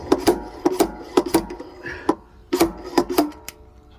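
A thread dent puller works against a stuck barrel bung, giving sharp irregular knocks and scraping clicks in uneven bursts, close and fairly loud, with brief pauses between clusters.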